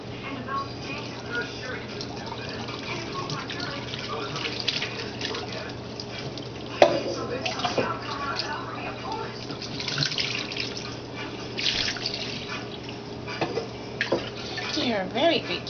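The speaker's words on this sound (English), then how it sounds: "let's get some water going here" Water runs steadily from a tap with a soft hiss and splashing for a cat's bath, while a person talks quietly nearby.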